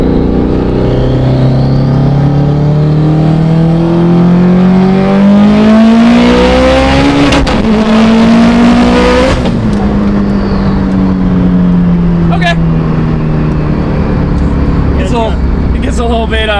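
Hyperblue Subaru STI accelerating hard during a pull, engine note rising steadily through the gears with loud continuous exhaust roar and brief shift breaks, close and dominant throughout.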